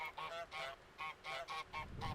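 Geese in a video game trailer honk in a quick series of about eight loud, nasal calls spaced close together, ending in a rougher flurry of noise.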